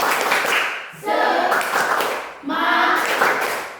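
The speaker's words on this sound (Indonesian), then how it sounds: "tepuk semangat" A school class performs a rhythmic spirit clap, with bursts of group clapping and shouted chanting in three loud waves, close by in a classroom.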